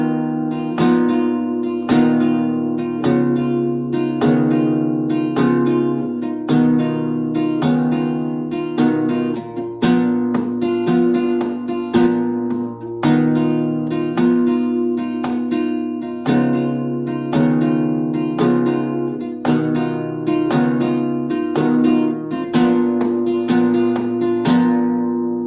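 Flamenco guitar plays a steady bulerías compás, strummed chords punctuated by percussive golpe taps on the body, loud and continuous with no talking throughout.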